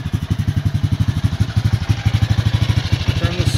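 A Bombardier Traxter utility vehicle sits running nearby with a loud, steady, thumping engine pulse, like a rapid regular chug, and no talking.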